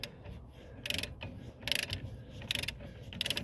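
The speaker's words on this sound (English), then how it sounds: "just gonna get my torque wrench and get this torqued on there" Ratchet clicks from a wrench tightening the CV axle nut on a 2014 Jetta come in four short bursts of rapid clicking, close and fairly loud, separated by brief pauses and set over faint shop background.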